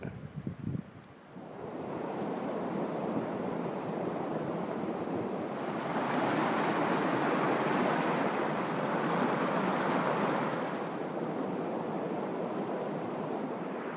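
A forest stream flows with a steady, full rushing hiss at a bushcraft campsite in the woods. The sound is continuous and close, with no voices.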